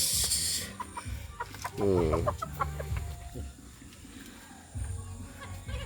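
Chickens cluck and squawk close by, a burst of busy clucking in the middle, with voices talking over farmyard background noise.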